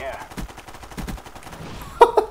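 Gunfire from a weapon in the video game Call of Duty: Black Ops 1, coming as a quick burst of shots near the end of a short stretch of busy game sound, with a voice talking under it.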